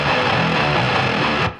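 Electric guitar played through a Bogren Digital MLC amp sim with gain maxed and an HM2-style distortion, a dense, saturated buzzing chord ringing briefly before cutting off abruptly.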